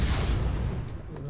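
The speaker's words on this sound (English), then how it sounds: "It's an explosion." An explosion goes off at a base in Planetside 2, a loud low boom that rumbles and fades over a second or so.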